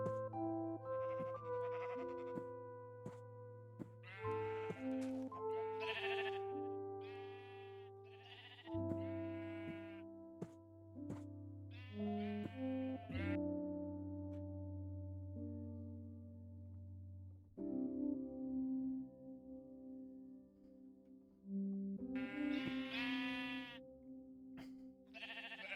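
Minecraft sheep bleat repeatedly in a video game, each call a clear wavering baa standing alone against game music with sustained tones, the bleats spread through the clip and bunched near the end.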